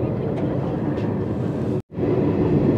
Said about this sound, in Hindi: ट्रेन पूरी थार मरुस्थल में होकर गुजर रही है